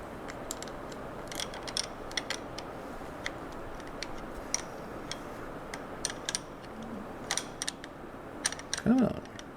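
Small rapid ratcheting clicks of a tool tightening bolts on the clutch cover of an MV Agusta F3 motorcycle, a steady close ticking run with a brief louder clank near the end.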